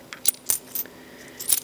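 Coins clatter through a motorized K'nex coin sorter, a few separate sharp metallic clinks scattered over under two seconds, fairly close and clear against a quiet hum.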